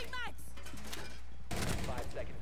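Video game gunfire in a multiplayer shooter round, a dense burst of rapid shots mixed with game effects and a faint voice, steady and moderately loud throughout.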